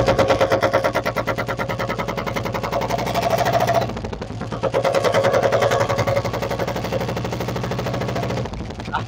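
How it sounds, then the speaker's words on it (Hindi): Royal Enfield Bullet motorcycle with a modified exhaust silencer riding along, its loud rapid dug-dug thumping steady and close, with a brief dip partway through. "बुलेट स्टार्ट कर दी है, चलाते हैं, आवाज तब आपको सुनाते चलते चलते कैसी आवाज आए"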